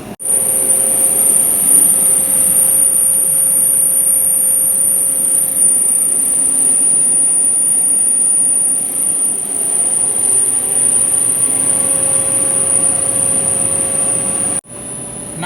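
A DC series motor runs steadily under increasing shaft load during a load test, giving a loud, constant hum with a high-pitched whine. A brief dip in the sound comes near the end.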